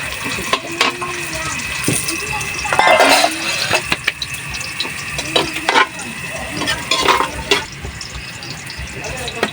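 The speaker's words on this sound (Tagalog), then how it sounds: "pwede nating ilagay ang sibuyas. Oh, onion." Onion sizzles in a pan during outdoor farm cooking for a boodle fight, a continuous bright frying hiss with scattered pops and clatter close by.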